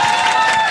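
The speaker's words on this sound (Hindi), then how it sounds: "जोर से ताली बजाओ" A stand-up comedy show audience claps in a short, dense burst of applause with a sustained tone ringing underneath.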